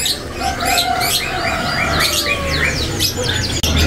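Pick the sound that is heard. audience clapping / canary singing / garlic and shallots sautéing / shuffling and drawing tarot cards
canary singing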